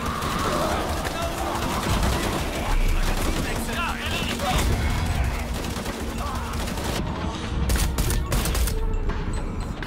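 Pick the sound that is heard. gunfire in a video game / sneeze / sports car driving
gunfire in a video game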